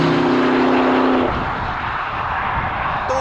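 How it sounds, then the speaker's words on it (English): Porsche Cayenne Turbo Coupe engine with a smooth, steady hum that drops after about a second to a softer, even drone, heard close and fairly quiet with no talking. "Such an amazing engine"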